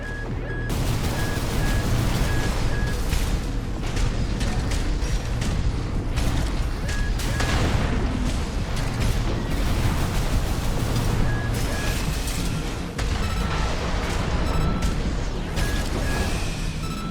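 Heavy rifle fire in the mech combat game Armored Core 6, a dense, loud, continuous barrage of shots and mechanical clatter with no gaps, set in an arena battle.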